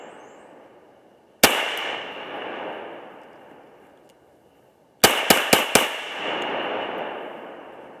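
Ruger P95 9mm semi-automatic pistol fired outdoors: one loud crack with a long echoing tail, then four quick shots in a row, each ringing out afterwards.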